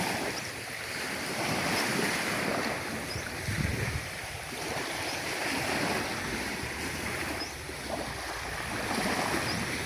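Surf rolls steadily against a shore at low tide on a tropical seafront, a continuous wash of waves with strong wind buffeting the microphone throughout, no voices.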